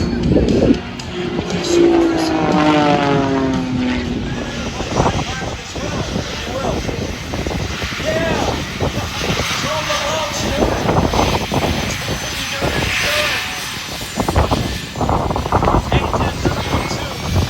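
Propeller warbird flying at the 2020 Stuart Airshow, a loud, steady engine drone that rises and swells as the plane passes, with a commentator talking over it throughout.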